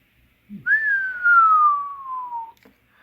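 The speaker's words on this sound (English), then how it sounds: "Let's try giving it a whistle, see what that meter does." A single sustained whistle into the microphone of a Realistic TRC-421 CB radio, starting slightly higher and gliding slowly downward in pitch for about two seconds, fairly loud and close, with a brief low thump before it.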